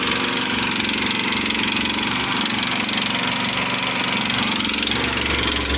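A small engine-powered machine mixing straw cattle feed runs with a continuous, loud, even drone and steady mechanical chug throughout, close by and without talk.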